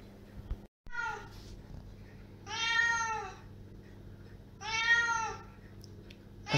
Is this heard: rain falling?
no